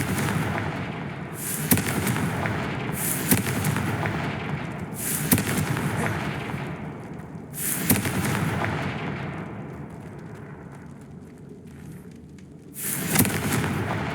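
Fiery Confringo spell blasts in the video game Hogwarts Legacy go off as a series of loud, booming explosive bursts every couple of seconds, each with a rumbling tail, against a constant low battle din.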